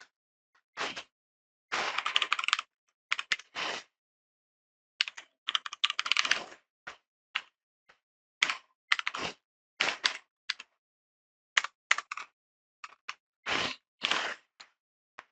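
Typing code on a computer keyboard while writing SystemVerilog, quick bursts of close key clatter separated by short pauses, with no talking.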